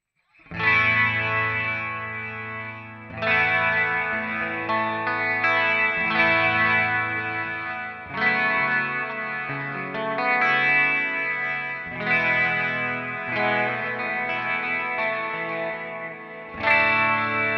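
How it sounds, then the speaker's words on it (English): An electric guitar fitted with Artec Alnico 5 hot rail pickups, played on the neck position through chorus and distortion effects, strums sustained chords that change every couple of seconds, loud and alone for the whole stretch. "when I switch to the neck position, you'll absolutely hear that nasally honky snarl that it has"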